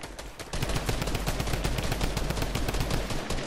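Rapid, sustained automatic gunfire from Fortnite rattles on loudly and continuously after a brief lead-in, a dense stream of shots with no pauses.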